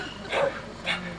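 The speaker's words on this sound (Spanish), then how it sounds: "Mirá cómo te reciben los perros, Lore." Dogs greeting an arriving visitor at a house, with two short yelping barks or whines spaced about half a second apart, fairly close over faint background noise.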